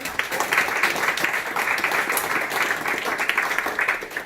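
Applause at an exhibition opening, a steady patter of many hands clapping together, sustained and fairly close, fluctuating slightly in intensity throughout.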